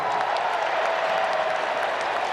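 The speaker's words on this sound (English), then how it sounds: "Nice round of applause for Bill" Steady, dense applause from an arena crowd at an ice hockey World Junior Championship game between Slovakia and the USA, greeting a prize presenter; continuous and even throughout, with no pauses.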